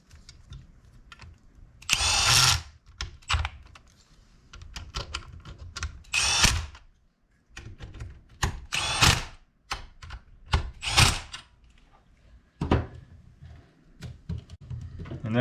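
Milwaukee M12 impact driver running long bolts, loud repeated bursts of whirring and rapid hammering, each lasting a second or less, separated by brief pauses and small mechanical clicks, close by with no talking.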